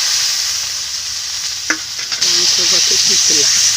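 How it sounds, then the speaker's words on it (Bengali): Chopped tomatoes fry and are stirred in a pan for a fish curry, giving a steady loud sizzle with a few clinks and scrapes midway and faint murmuring in the background. "এবারে দিয়ে দিব টমেটো কুচি টমেটো কুচিটা একটু বেশি দিতে হবে"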